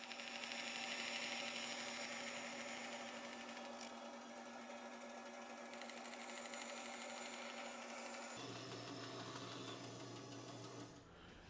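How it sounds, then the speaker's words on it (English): A bandsaw runs with a steady mechanical hum while cutting a notch in the top step of a wooden Shaker step stool, its tone shifting and dropping partway through as the cut finishes, with no talk. "I'll cut this out with the bandsaw."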